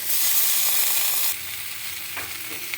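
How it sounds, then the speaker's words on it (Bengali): Fried vegetables tipped into hot spice masala in a pan for a jhaler jhol, a loud bright sizzle that drops to a quieter steady frying hiss with faint stirring. "ভাজা সবজিগুলো দিয়ে দিচ্ছি,"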